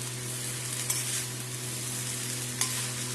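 Pulao ingredients with salt, colouring and sugar are stirred in a hot pan, a steady close sizzle with two sharp spoon scrapes against the pan, and no voices.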